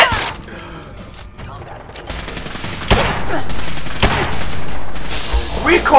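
Handgun fire in the video game Fallout 4, sharp loud bursts of shots and impacts in quick irregular succession amid game effects, with a player's voice exclaiming over it.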